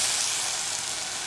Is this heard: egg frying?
yes